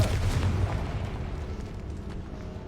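A Confringo fire spell explodes in the Hogwarts Legacy video game, a loud booming blast at the start that rumbles and fades over a couple of seconds, with no talk.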